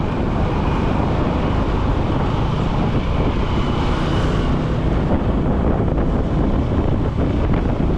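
Strong wind buffets the microphone in a constant loud roar near the Boracay shore, with a dull rushing undertone like rough surf or a boat engine beneath it.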